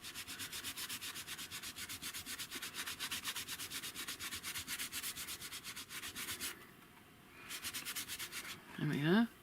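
Craft surface being rubbed back by hand to reveal stamped images underneath, a fast steady back-and-forth scrubbing rhythm up close, with a brief pause and a short handling noise at the end.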